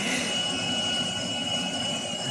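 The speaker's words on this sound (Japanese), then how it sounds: "では、このジャンボジェット機で" Steady, loud roar of a jumbo jet engine in the video game GTA 5, a continuous broadband whine with a thin high tone running throughout, no voices.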